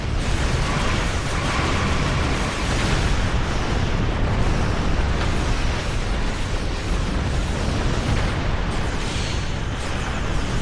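Continuous weapon barrage and explosions in the video game Star Trek Online, a dense, loud rumble of booms and rapid-fire blasts with no pause.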